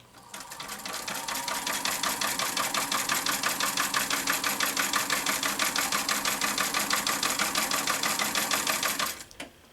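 A sewing machine stitches a crazy patch quilt block along a line, running in one steady, fast, even rhythm for about nine seconds before it stops, loud and close with no talking.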